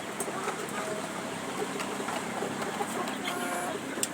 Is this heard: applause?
no